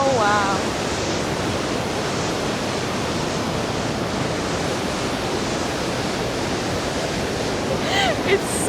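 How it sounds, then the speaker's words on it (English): The water of Iguazu Falls roars up close in a dense, steady wash of noise that fills the whole scene, with a faint voice briefly audible beneath it near the end. "It's almost like you're in the waterfall."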